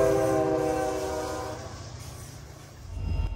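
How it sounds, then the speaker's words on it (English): Custom-built SD-60E locomotives hauling a passenger train sound a long, loud multi-tone horn blast that fades, followed by a rising rumble of the engines passing close. "Locomotives like these custom-built and immaculately maintained"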